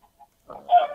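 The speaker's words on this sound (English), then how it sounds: "and there's a random chicken in the pen." A Minecraft chicken in a farm pen gives a short, close cluck, preceded by a couple of faint tiny chirps, with nothing else audible.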